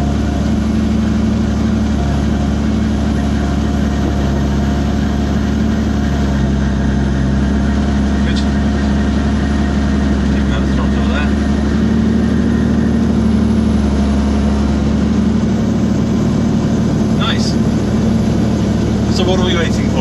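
A Robinson R44 helicopter runs on the ground with its rotor blades turning, a steady loud low engine drone and rotor hum throughout, with people talking over it.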